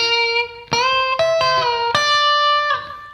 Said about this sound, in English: it's like a melodic part that leads us into the fast part at the end.